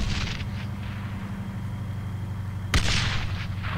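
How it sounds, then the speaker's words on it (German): Artillery shells land in ArmA 3: a muffled rumble of distant impacts, then one sharp loud blast close by near the end, followed by a rolling boom. "Oh, und die kommen immer näher, die Einschläge."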